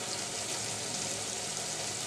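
Kochu loti cooking in oil with chopped garlic, onion and softened tomato: an even, steady sizzle of frying at moderate volume, continuous and without pauses or speech.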